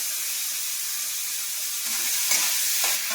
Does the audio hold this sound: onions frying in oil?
yes